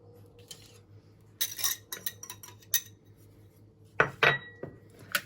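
A utensil clinks and scrapes against a bowl while egg yolks and cheese are mixed for keto tahini bread. Scattered close clinks come in two busy bursts, the second louder, over a quiet background.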